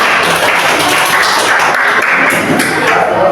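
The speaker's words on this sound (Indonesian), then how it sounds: "Kasih tepuk tangan untuk kita" Students and teachers in an Indonesian classroom applaud together, a dense, loud, continuous roar of clapping with some voices underneath.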